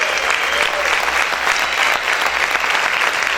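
Loud, sustained clapping from a church congregation fills the space, an even, dense roar of many hands with no breaks.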